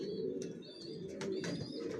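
Young long-distance racing pigeons of the Johnson line coo faintly in low, murmuring tones, with a few thin chirps over a soft ambient hum.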